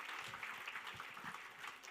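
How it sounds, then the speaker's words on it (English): Audience applause fills the hall at a hackathon grand final, a dense, steady clapping from a large crowd that continues evenly throughout without any talking over it. "You can clap for another 10 minutes."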